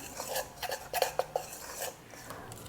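A utensil stirs two flours, yeast, flaky sea salt and spices in a bowl for gingerbread, making a quick run of light clinks and scrapes against the bowl that then trails off into quiet rubbing.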